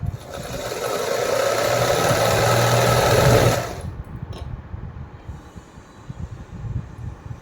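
A sewing machine stitches fabric in a steady, loud mechanical whir for about three and a half seconds, then stops abruptly, leaving quieter handling sounds and faint background noise.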